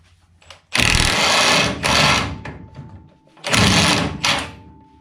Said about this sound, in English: going to take the impact on the other side